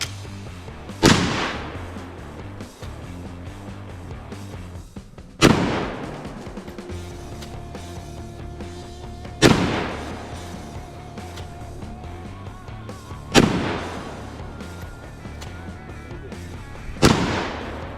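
Gunshots fired at a cast iron Peerless 2300 transmission, five loud, sharp reports spaced about four seconds apart outdoors, each followed by a brief ringing decay.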